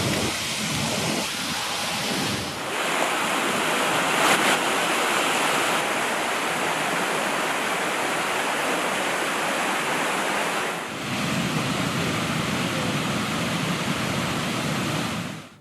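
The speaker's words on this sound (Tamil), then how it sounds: "கனமழை காரணமாக பெனிசுலாவின் தெற்கு கடற்பகுதியில் அமைந்துள்ள யால்டாவில் கடும் வெள்ளப்பெருக்கு ஏற்பட்டுள்ளது." Heavy rain and floodwater surging through the streets of Yalta on the Crimean peninsula's southern coast, a loud, continuous rushing roar that dips briefly twice, with no voices.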